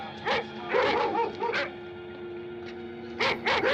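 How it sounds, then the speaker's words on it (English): Zombie dogs in Night of the Living Dead, several short sharp barks and yips in quick clusters, moderately close, with a pause before another burst. "Zombie dogs."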